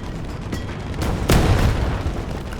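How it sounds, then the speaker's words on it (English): A tank cannon shot from an M4A3E2 Jumbo in War Thunder, one deep boom rolling over a dull battlefield rumble. "that Jumbo's now firing on my position"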